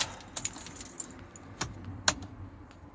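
Car keys for a Ford Focus Mk1 picked up and jangling, a few close, sharp metallic clinks and rattles in short bursts against a quiet room.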